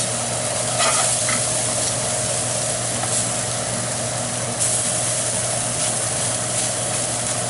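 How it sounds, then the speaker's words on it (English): Scallops sear in a hot pan, a constant loud sizzle and crackle filling the whole stretch with small pops now and then, steady and close with no voices. "So it takes about 3 or 4 minutes for the scallops to brown."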